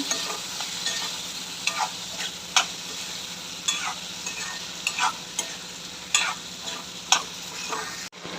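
Soaked kidney beans being mixed into a sizzling rajma masala in a pan, a low steady hiss with regular spoon scrapes and taps every half second or so, close by, ending in one sharp clunk.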